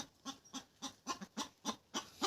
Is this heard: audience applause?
no